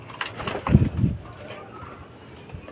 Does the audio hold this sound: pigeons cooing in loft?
yes